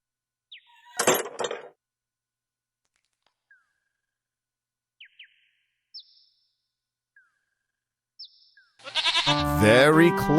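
A goat in the King's Quest 1 video game bleats once near the start, then small chiming game effects sound sparsely before a louder, harmonic bleat-like call rises at the end.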